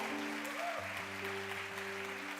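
A church congregation applauds in a steady wash of clapping, fairly loud and continuous, with organ or keyboard chords sustained underneath.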